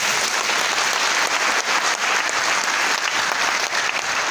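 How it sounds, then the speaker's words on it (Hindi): Steady, dense clapping from a large audience at a speech gathering, loud and continuous throughout with no break. "इन सबके जज्बे के लिए एक बार जर ताली तो बजाओ।"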